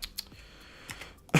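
Sparse, quiet clicks of computer keyboard keys being pressed for shortcuts, a few isolated taps ending in a louder press.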